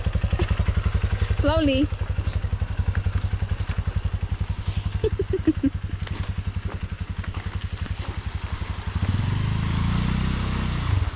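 A very small motorbike putters along a rough road with a steady, close engine drone and rattling, while people talk over it.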